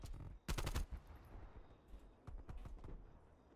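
Gunfire in Call of Duty: Black Ops Cold War, a burst of loud rapid shots followed by scattered sharper cracks and softer rattling bursts, with no voices.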